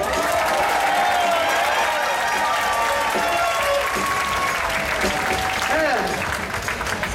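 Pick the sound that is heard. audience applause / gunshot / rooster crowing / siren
audience applause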